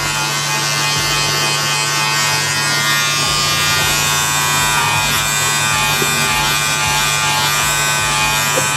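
Electric hair clippers hum loudly and steadily at close range throughout a skin fade haircut, with a constant buzzing drone and faint rasping as the blades cut through hair.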